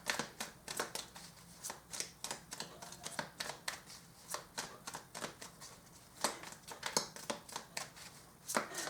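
Tarot cards are shuffled and drawn by hand, giving a close run of crisp riffling and slapping bursts in an irregular rhythm, each brief flutter followed by a pause.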